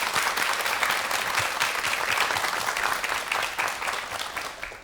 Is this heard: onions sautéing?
no